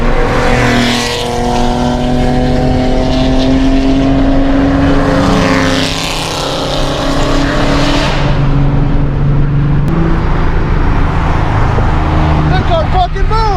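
A modified 3.7L Mustang accelerates hard down a quarter-mile drag strip, its engine a loud sustained roar with rising tonal harmonics, while people talk over it.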